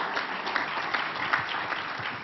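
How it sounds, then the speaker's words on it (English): A room full of people at a business conference claps steadily, a dense patter of applause that continues without pause throughout. "Big round of applause for Didier."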